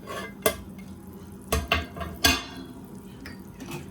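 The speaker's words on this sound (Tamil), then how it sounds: "மூடியை திறந்து பார்க்கலாம்." A lid is lifted off a pot of Tamil fish masala curry simmering on low heat, giving a few sharp clanks and knocks against a faint bubbling background.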